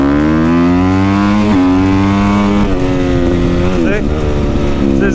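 A dirt bike engine roars at full throttle, loud and close, with sharp pitch breaks as it shifts up through the gears, the tone climbing steadily after each change.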